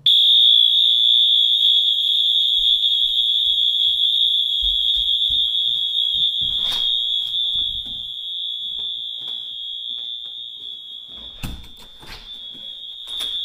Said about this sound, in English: This is gonna run a continuous horn.